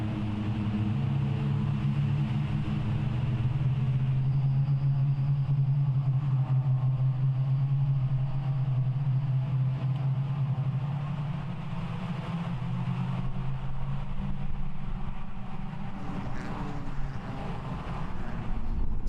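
Suzuki Swift race cars roll around the 5.4-kilometre Brno circuit on a formation lap, giving a continuous low engine drone with gently shifting pitch and light wind rumble, heard from inside or close by.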